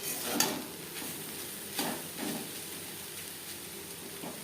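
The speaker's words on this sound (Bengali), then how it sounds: "আরও চার পাঁচ মিনিট মিডিয়াম ফ্লেমে নারকেলের সাথে বরবটি নাড়াচাড়া করে নেওয়ার পর গ্যাসের ফ্লেমটা বন্ধ করে দেব" Long beans with grated coconut stir-frying in a pan over a medium gas flame, a soft low sizzle broken by several scraping stirs of a spatula, fairly faint and close.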